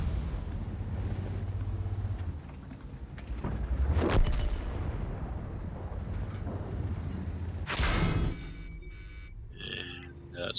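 Artillery shell striking a heavy tank in World of Tanks, a sharp loud impact burst followed by a second explosive crack, over steady low engine rumble and wind-like noise.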